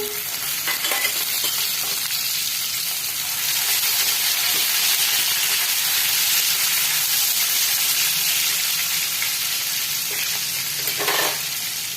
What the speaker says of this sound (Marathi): परतून घ्यायचा आहे कांदा टोमॅटो टाकूया